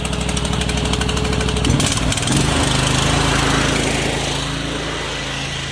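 A small petrol engine on a high-pressure drain jetter coughs into life and settles into a loud, steady running drone close by.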